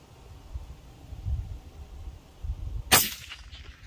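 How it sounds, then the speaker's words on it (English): A single sharp rifle shot rings out near the end, fired at a target through a Pulsar Talion XQ38 thermal scope setup, loud and close against a quiet, rumbling outdoor background. "One shot."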